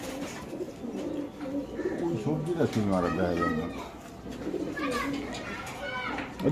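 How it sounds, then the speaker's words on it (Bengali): A Pakistani pigeon at a pigeon farm coos in low, rolling bursts, mixed with nearby voices talking over it. "দর্শক এটা একটা পাকিস্তানি কবুতর"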